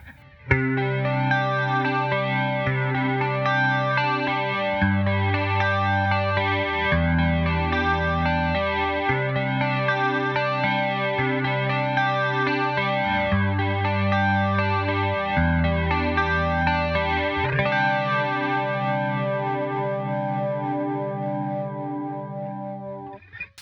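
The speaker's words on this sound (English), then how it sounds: "Flange is a really awesome effect. I kind of hear it as being a combination of chorus and phase." A Line 6 POD HD500x guitar runs through an analog flange effect on stock settings, sustained chords swirling with a sweeping, jet-like whoosh that rises and falls steadily, loud and continuous with no talk.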